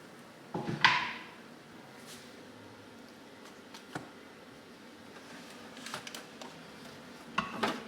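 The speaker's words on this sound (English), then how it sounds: "I'm going to get the big pan out." A big pan pulled out in a home kitchen: a loud clattering clank early on, then scattered softer knocks, rattles and a cupboard or drawer bump, close by with no talking.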